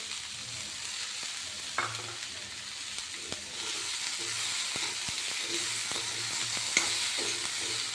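White sesame seeds frying in hot oil give a constant close sizzle and crackle, with occasional stirring clicks and scrapes over the steady hiss.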